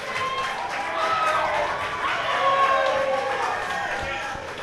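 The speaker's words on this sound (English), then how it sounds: "there's the roar from the crowd as well" A crowd roars and cheers after a decisive shot at a women's pool match at a university Roses varsity event, the noisy swell carrying steadily under a commentator's voice.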